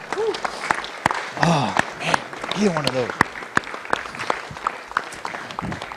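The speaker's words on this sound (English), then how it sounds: "let's give them a big round of applause" A church congregation at a live service claps throughout, crisp individual claps scattered over a busy room while people talk and call out nearby.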